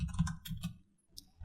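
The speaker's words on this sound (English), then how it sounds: "It's kind of good I'm typing slow because of the microphone" Slow, soft keystrokes on a computer keyboard while writing PHP code, a short run of clicks, a pause, then a couple more taps, faint and close.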